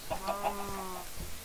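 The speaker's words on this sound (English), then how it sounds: "There are a bunch of chickens in there" Chickens cluck inside a Minecraft chicken farm, a short run of game-sound clucks at moderate distance, fairly quiet, followed by a lower, single call.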